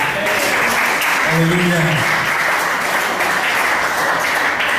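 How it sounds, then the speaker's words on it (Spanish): Church congregation applauding steadily throughout, a dense continuous wash of clapping with a voice calling out over it. "vamos a dar un fuerte aplauso al Señor."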